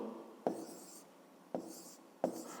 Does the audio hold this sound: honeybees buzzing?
no